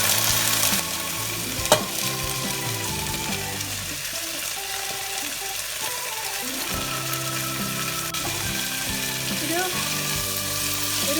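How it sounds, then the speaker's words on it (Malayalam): Washed rice is stirred and fried in ghee for ghee rice, with a continuous close sizzle broken by scraping stirs and one sharp clink early on. "നെയ്യിലൊന്ന് ഇത് മിക്സ് ചെയ്യാം"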